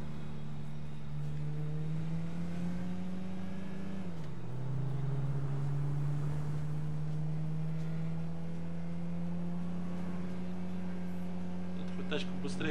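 A car engine in GTA 5 hums steadily at close range, its pitch climbing, dipping briefly with a gear change, then rising again, with faint talk alongside.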